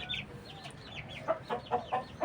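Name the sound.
Bangkok fighting chicken clucking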